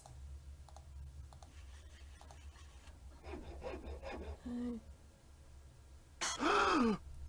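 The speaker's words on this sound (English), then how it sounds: "the sawing sounds." Sawing in the video game Nancy Drew: Treasure in the Royal Tower, heard as scattered faint clicks followed by a few seconds of rough rasping strokes, then a brief loud vocal burst near the end.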